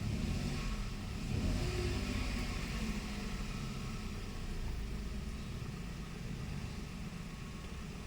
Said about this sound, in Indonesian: Kita gas ya.